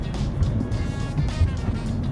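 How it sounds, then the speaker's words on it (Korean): A Lamborghini Huracán Tecnica with its naturally aspirated V10 drives a test lap on a circuit. The engine drone is steady and moderately loud from inside the cabin, with low rumbling pulses and no speech. "이 타고 있는 차는 람보르기니 우라칸 테크니카거든요"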